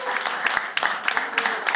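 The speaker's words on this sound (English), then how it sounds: "Round of applause." An audience applauds at a Dota 2 esports grand final, steady dense clapping filling the hall, with an announcer's voice running over it.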